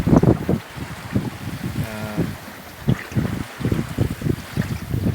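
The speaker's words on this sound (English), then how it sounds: "go downwind, racing downwind here." A sailboat racing downwind on Akaroa Harbour, Banks Peninsula, New Zealand, with water rushing along the hull and gusty wind buffeting the microphone in uneven surges throughout.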